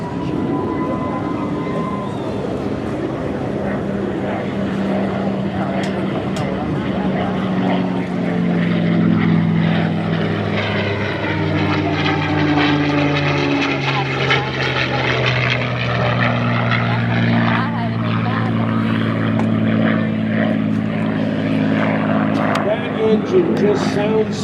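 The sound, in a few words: P-51 Mustang with Packard Merlin engine flying into the distance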